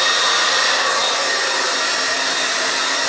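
A high-intensity pet dryer runs on its high setting while drying a dog after a bath, giving a loud, steady, close roar of blowing air that continues throughout.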